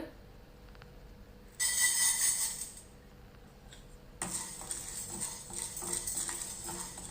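Chana dal dry roasting in a hot kadai for curry leaf podi, giving a bright rattling scrape of lentils stirred against the metal in two loud bursts, separated by a quieter pause.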